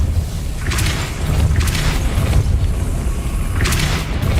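Depulso spells are cast repeatedly in Hogwarts Legacy: four loud, booming magical blasts land at irregular intervals over a continuous low, heavy rumble.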